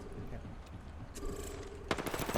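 Apex Legends gunfire crackles faintly in short bursts, swelling into a denser rattling volley near the end, mixed with game effects and distant background noise.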